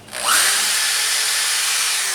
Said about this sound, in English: we're drilling completely through, trying in a straight line